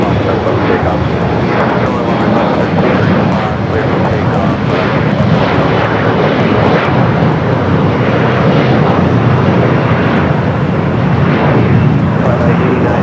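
At Los Angeles International Airport, a heavy jet arrives on the south side with a loud, continuous roar of engines. Voices are heard faintly under the noise.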